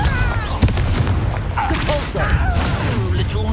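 A Confringo blasting spell explodes in the Hogwarts Legacy video game, giving a loud booming blast amid busy combat effects and a constant dense wash of game noise, with voices present.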